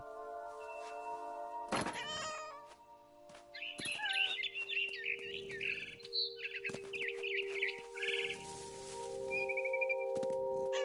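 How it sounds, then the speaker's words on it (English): A barn swallow chirps in short high bursts near a window, mixed with cat meows and other sounds. "Then I heard chirping outside my window. It was a barn swallow going back to her nest."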